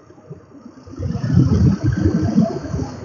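A motorbike engine hums while riding above 50 km/h, quiet at first and then swelling into a steady, gritty mid-pitched drone that holds for a couple of seconds.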